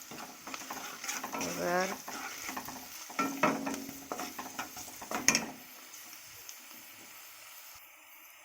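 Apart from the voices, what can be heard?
stirring taro stems frying in a pan with salt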